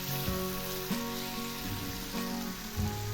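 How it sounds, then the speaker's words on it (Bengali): Olives frying in oil for a Bengali jalpai chutney give a steady, dense sizzle throughout, with faint clinks and stirring sounds mixed in. "জলপাইগুলো ভাজা হয়ে গেছে, দেখুন অনেকটাই তেল দিয়েছি"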